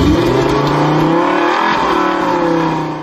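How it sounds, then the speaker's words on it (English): A Skoda Octavia VRS sports car engine revs loudly up and back down in sweeping pitch swells, close and continuous before easing off at the end. "Look, Gromit lad, I got myself a brand new Skoda Octavia VRS."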